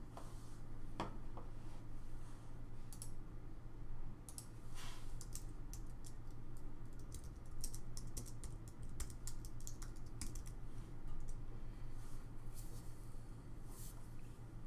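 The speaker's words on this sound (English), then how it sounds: "please type your legal name as it appears on your ID in the chat box below and hit enter" Quiet, close computer keyboard typing in irregular bursts of clicks as a name is entered, over a faint steady hum with no voices.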